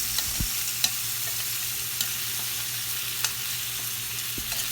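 Potato pieces fry steadily in a pan with turmeric and salt, giving a constant close sizzle broken by a few light stirring knocks, with no voices.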